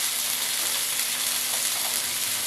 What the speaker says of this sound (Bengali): অল্প করে লবণ দিয়ে দেবো, দিয়ে এটাকে ভালো করে ভেজে নেব।